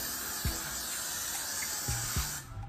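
Glue spray for hair hisses in several short bursts from a can while a bun is being styled, a close, steady airy spray with brief pauses between squirts.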